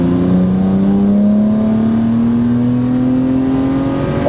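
A BMW 135i with standback and turboback exhaust revs hard, its engine note climbing smoothly and loudly in pitch as the RPMs rise, heard close and continuous without talk.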